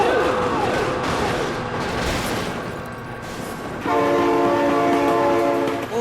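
Loud train horn in the BeamNG.drive driving game, sounding in sustained harmonic blasts that swell louder near the end over a continuous rumble of rail and road noise, with an excited voice exclaiming briefly.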